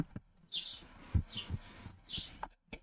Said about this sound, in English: You can really hear the birds.